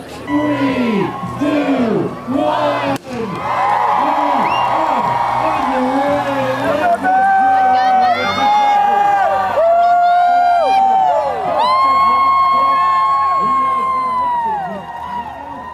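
A large crowd at the start of the Leadville 100 mile trail race cheers loudly and continuously, with high whoops and yells rising above the roar, close and sustained throughout.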